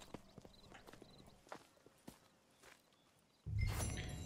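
Faint, slow hoof clip-clops of horses walking in Red Dead Redemption 2, spaced irregularly, ending in a sudden louder burst of noise.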